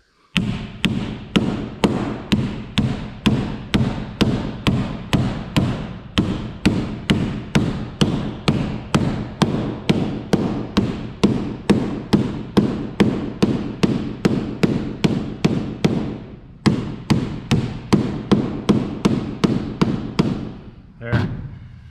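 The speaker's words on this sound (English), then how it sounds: "drill two holes and put some rivets in" Rivets are set into a bus roof after holes are drilled for them: a long run of sharp, close impacts repeats at a quick, even pace, about two per second, with a brief pause near the end.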